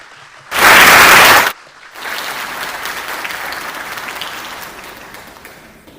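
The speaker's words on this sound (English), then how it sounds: "can we please give her a round of applause as she comes up?" Audience applause at a fair housing summit keynote: a short loud burst of clapping, then a gap and a longer, softer round of applause that gradually fades.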